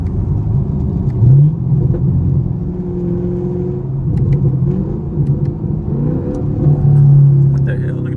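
A Chevrolet Camaro SS engine rumbles steadily and revs up as it accelerates, loud and close, with road noise throughout.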